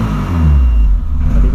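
A turbocharged VW Voyage car engine runs and revs up close, a thick steady low rumble that swells slightly partway through the short stretch.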